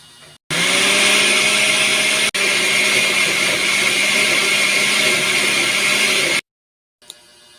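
A kitchen blender whirs loudly and continuously, blending sliced papaya with evaporated milk, then stops abruptly, leaving near silence apart from a small clunk at the end.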